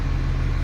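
Heavy truck engine idling in gear with a little throttle during a brake check on a class A rig with automatic transmission, a steady low rumble with regular pulsing, close and continuous.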